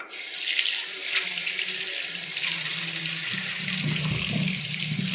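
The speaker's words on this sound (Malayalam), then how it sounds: "നെല്ലിക്കയൊക്കെ നമുക്ക് ജസ്റ്റ് ഒന്ന് വാഷ് ചെയ്തേക്കാവേ" Gooseberries being washed under a running kitchen tap, a steady close splashing rush of water into a sink with faint handling noises underneath, continuous throughout without speech.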